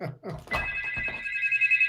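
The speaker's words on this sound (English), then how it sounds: "and the phone just ringing" A telephone rings loudly and steadily, a sustained bright electronic ring that fills the background while someone talks over it on a radio call-in show.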